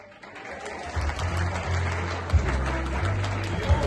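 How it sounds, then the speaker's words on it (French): An audience at an African diaspora cultural event bursts into sustained applause, many hands clapping steadily in a hall with a low rumble underneath and a few louder bumps. "Un maximum d'applaudissements, s'il vous plaît"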